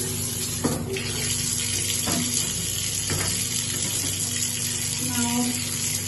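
Tap water runs steadily into a sink while white laundry is rinsed by hand, a constant close splashing gush with faint handling sounds and no talking.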